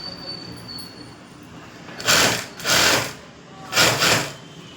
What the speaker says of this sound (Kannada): ಈಗ ಲೈನಿಂಗ್ ಏನಿದೆ ಸ್ಟಿಚಿಂಗ್ ಹಾಕ್ಕೊಂಡು ಬನ್ನಿ.